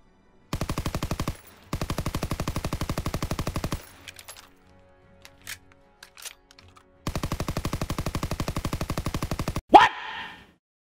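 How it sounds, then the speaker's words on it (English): A PPSh submachine gun firing in Call of Duty: WWII multiplayer, two long rapid-fire bursts cut by brief gaps, a quieter stretch of scattered clicks and small sounds in between, then a third long burst ending in a sharp crack. "That is the PPSH in Call of Duty World War II."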